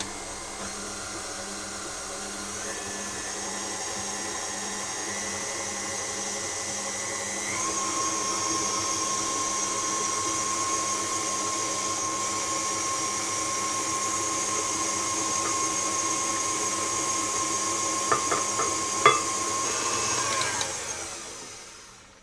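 An electric mixer beats eggs into creamed butter and sugar for a lemon pistachio cake batter. Its steady whirring motor drone runs close and unbroken for about twenty seconds, then its pitch shifts slightly and it stops with a few clinks.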